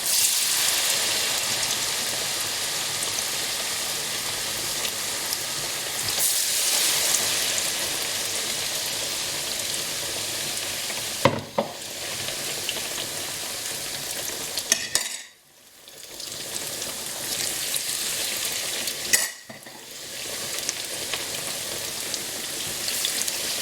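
Courgette and chilli fritters in batter fry steadily in hot oil, a dense, continuous sizzle with a few sharp clicks and brief dips as slices are turned or added.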